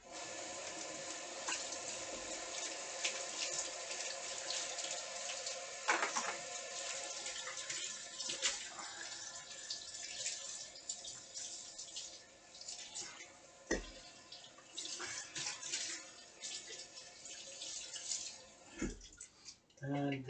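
Water runs steadily from a tap into a kitchen sink while dishes are washed and rinsed, a continuous splashing hiss with occasional clunks of items being handled.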